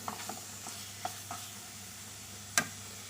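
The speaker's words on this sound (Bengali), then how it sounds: "আর কিছুক্ষণ নেড়ে নামিয়ে নেব" Ground bottle gourd leaves cooked with shrimp paste, stirred in a pan, a soft low sizzle under a few light spoon scrapes and one sharper clink near the end, faint and close with no voices.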